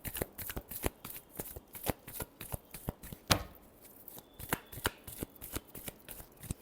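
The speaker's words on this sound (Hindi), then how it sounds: "last shuffle" Tarot cards being shuffled by hand in a fast, regular run of crisp riffling snaps, with one louder slap partway through, heard close and alone without talking.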